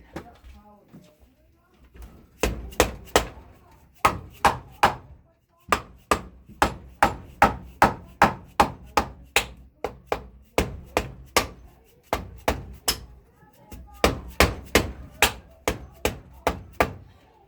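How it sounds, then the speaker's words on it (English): Steady rapping of a mallet on the case of a KE102 engine being reassembled to relieve stress, roughly thirty sharp, close taps in uneven clusters with brief pauses, loud and alone. "what I do is I'm going to take the mallet"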